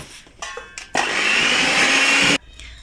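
An electric mixer beats red velvet cake batter in a steady, loud, continuous whir lasting about a second and a half, cutting off sharply, with quieter kitchen clatter before and after.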